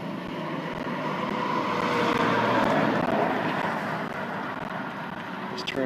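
A DJI Phantom 4 Pro drone flies nearby outdoors, its rotors giving a continuous buzzing whir that swells slightly and then eases, steady and fairly loud, with no speech.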